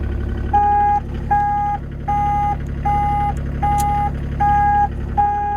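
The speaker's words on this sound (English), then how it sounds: "there's going to be a lot of beeping, so just bear with me" Repeated electronic warning beeps from a Bobcat machine in a steady rhythm, about eight evenly spaced tones, over the constant low rumble of its idling engine.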